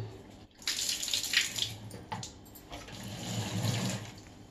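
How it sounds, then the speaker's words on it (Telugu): Water is poured over hibiscus flower buds in a bowl, giving a gurgling, splashing stream close by that comes in a few bursts with short pauses between them. "చూడండి, ఈ విధముగా వాటర్ వేసుకొని"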